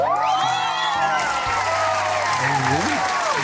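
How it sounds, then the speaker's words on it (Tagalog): A studio audience claps and cheers with shouts and whoops, a steady dense roar lasting throughout, with tonal music or voices running underneath. "baka pwedeng palakpakan at may kasamang sigawan"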